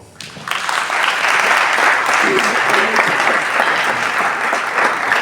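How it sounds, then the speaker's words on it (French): Crowd at a graduation celebration applauding the parents, a sudden swell of dense clapping that holds steady and loud throughout. "Applaudissons pour les parents."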